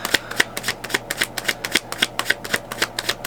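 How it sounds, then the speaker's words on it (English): Tarot cards shuffled by hand in steady rapid riffling strokes, about a dozen crisp papery slaps in even rhythm, close and alone with no talk. "I'm gonna shuffle."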